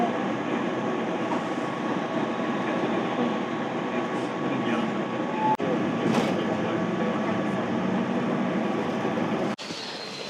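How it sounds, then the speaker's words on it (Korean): A tram in Okayama, Japan rumbles past up close, a continuous loud rolling drone with a few sharp clicks and clanks from the rails. "오카야마에도 트램이."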